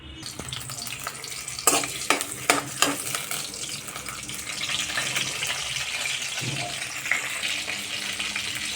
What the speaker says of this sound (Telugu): టూ స్పూన్స్ ఆయిల్ పోసుకున్నాను ఇప్పుడైతే నేను పచ్చిమిర్చి వేసుకున్నాను